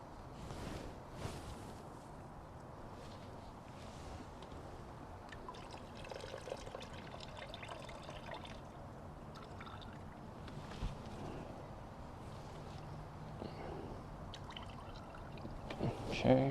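DIY rinseless car wash concentrate is poured into a bucket holding four gallons of water, making a faint, steady trickle and splash that runs for several seconds in a quiet space.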